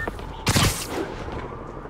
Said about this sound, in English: we have reports of gunfire coming from multiple vehicles